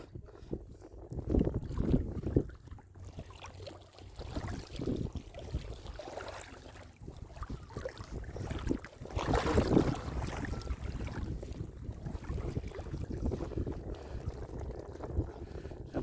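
Boat out at sea off Centennial Beach during a crab-catching trip, with steady wind buffeting the microphone, water wash and low engine-like rumble, with brief muffled voices early on.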